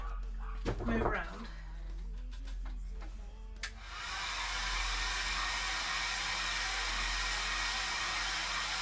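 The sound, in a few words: heat tool warming cosplay shin armour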